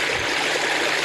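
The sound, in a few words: water flowing through swales into recycling ponds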